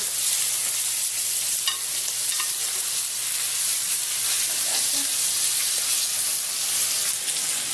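Rainbow trout frying in a pan, a dense continuous sizzle and crackle of hot oil close by, steady throughout with faint stirring clicks and no talking.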